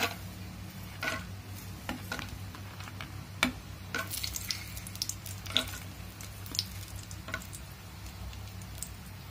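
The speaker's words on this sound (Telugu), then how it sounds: "దాంట్లో ముందుగా ఈ వేరుశనగ గుళ్ళు వేసుకొని వేయించుకోవాలి." Shelled peanuts frying in a heated pan as the first step of a village-style jackfruit curry, with a soft steady sizzle and scattered crackles and pops, alone without talk.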